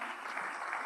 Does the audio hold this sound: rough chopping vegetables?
no